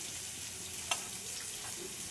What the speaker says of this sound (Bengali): দেখো পেঁয়াজগুলো ভাজা হয়ে গেছে